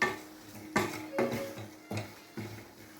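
A spoon knocks and scrapes against a pan while a raw mango and jaggery mixture is stirred, several distinct clinks spaced about half a second apart, close and fairly quiet, with no talking.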